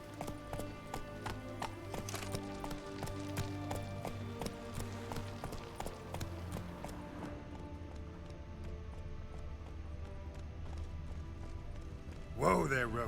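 Geralt's horse Roach in The Witcher 3 gallops with a faint, steady patter of hooves beneath game music and ambience, followed by a louder burst at the close.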